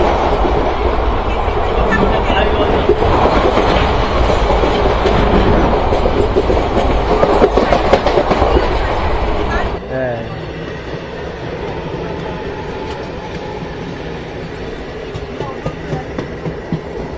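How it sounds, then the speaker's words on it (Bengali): The Kanchenjunga Express (Sealdah–Silchar) pulls out of Sealdah station in a steady loud rumble and rattle of carriages with clickety-clack, under faint background voices; the din drops to a quieter, even roll partway through. "আর ট্রেন কিন্তু এখন শিয়ালদা স্টেশন থেকে বেরোচ্ছে"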